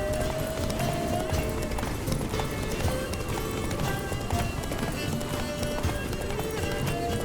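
Geralt's horse gallops in The Witcher 3: Wild Hunt, Blood and Wine, a quick, continuous clip-clop of hooves over a dense game soundscape with music tones, running steadily for the whole stretch.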